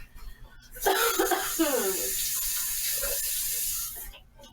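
Tap water runs in a steady hiss for about three seconds while kitchenware is rinsed, with a brief voice near the start and quiet pauses before and after.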